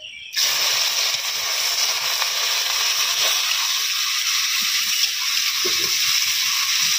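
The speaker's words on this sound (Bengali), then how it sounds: "পেঁয়াজগুলো হালকা ভাজা হয়ে এসেছে" Chopped onions fry in a wok with bay leaves, cardamom, cloves and cinnamon, a loud, steady, close sizzling hiss that starts abruptly and holds unbroken throughout.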